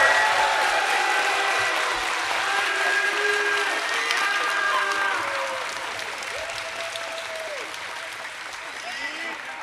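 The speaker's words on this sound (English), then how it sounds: "let's give it another round of applause" An audience at a tournament final at a live event claps loudly and steadily. The applause slowly fades, and voices call out over it.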